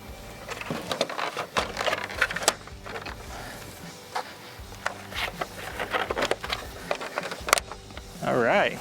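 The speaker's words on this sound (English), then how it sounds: "now I'm going to clip this grill back into place" Plastic grille on a 2015–2025 Ford F-Series being pressed and clipped back into place, with scattered close clicks, knocks and rubbing amid handling noise, and a person talking briefly.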